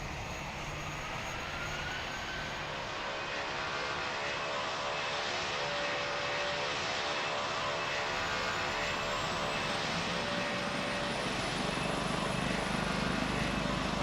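KLM airliner taking off from a runway in the Roblox flight game PTFS, producing a loud, constant engine roar that fills the whole stretch, with a thin whine rising slowly near the end.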